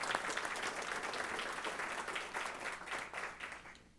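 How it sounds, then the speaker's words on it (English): A meeting audience at a turnpike authority board meeting gives a sustained round of applause, dense steady clapping from many hands in a room, moderately loud and alone without talk. "everybody in here owes a good round of applause for Jeff, Jeremy, the maintenance folks"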